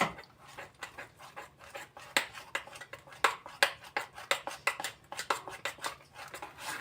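A spoon scrapes and clinks around a bowl of melted chocolate mixture for a no-bake cake, making quick rhythmic close-up taps and scrapes that repeat steadily with no voices.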